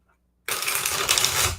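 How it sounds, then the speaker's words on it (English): A deck of tarot cards shuffled in a steady riffle, a dense crisp flutter that starts abruptly after a brief silence and continues close and fairly loud. "Let's get a few shuffles in here."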